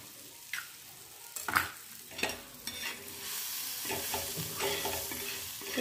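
Onion, tomato and egg frying in a pan for a bread omelette, with a steady sizzle, a few sharp stirring clinks and scrapes of a spoon close by, and no talking.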